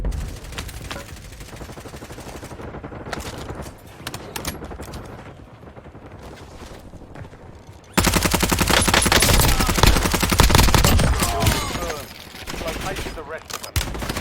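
Rifle gunfire in the video game Warzone, rapid bursts of automatic shots that rattle on for several seconds, growing much louder and denser in the second half, with no speech over it.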